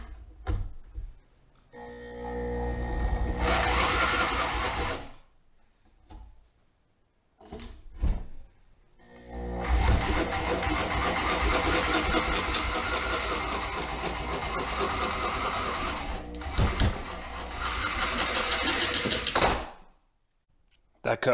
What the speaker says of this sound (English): Using a bench vise to hold this so I can cut it.